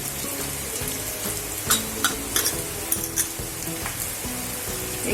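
Onion browned red in a pan with two spoons of homemade masala, frying and sizzling steadily as a spoon stirs and scrapes with several sharp clinks, close and fairly loud throughout, for a monsoon kartoli vegetable dish.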